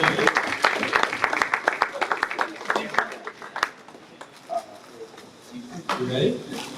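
A school crowd at a varsity baseball seniors night claps in a loud burst that gradually thins into scattered claps, with voices talking over it near the end.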